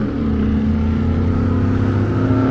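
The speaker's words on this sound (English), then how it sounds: "I hate when these little four-banger cars, like these Hondas, they put them loud round mufflers on them." A four-cylinder Honda car with a loud round aftermarket muffler drives past at night near a roadside shopping center, its steady, buzzy exhaust drone holding close and loud throughout.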